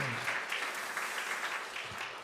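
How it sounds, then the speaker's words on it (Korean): A church congregation claps together during a Sunday worship service, a brief burst of dense, steady applause at moderate distance with no speech over it. "하나님께 영광의 박수 한번 돌릴까요?"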